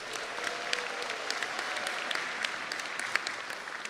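Sustained applause from a large audience at a CCNY graduate convocation, a steady, even wash of clapping heard from a moderate distance.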